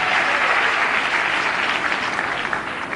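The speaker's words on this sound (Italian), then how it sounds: "allora facciamo un bel applauso a Simone." Studio audience at an Italian TV joke show applauds steadily and loudly for the full three seconds, a dense wash of clapping with no voices.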